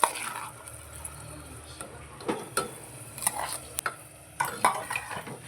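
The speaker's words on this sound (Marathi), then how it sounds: "सगळं आपल्याला व्यवस्थित मिक्स करून घ्यायचं आहे एक दोन मिनटं तांदूळ तेलामध्ये व्यवस्थित भाजून घ्यायचं आहे" Soaked, washed ration rice and dal stirred and roasted in oil for masala khichdi, with the spoon clattering against the pot in irregular knocks over a faint, low sizzle.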